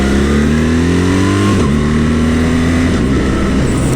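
A BMW R1300GS boxer motorcycle accelerating hard, the engine note rising steadily with crisp quick-shifter gear changes cutting in twice, loud and close with wind noise throughout.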